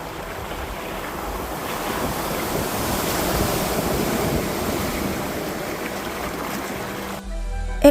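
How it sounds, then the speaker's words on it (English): A small waterfall in the West Virginia woods gives a steady broadband rushing wash, constant and fairly close, with some wind buffeting the microphone and no talking. "there's a nice little waterfall right here"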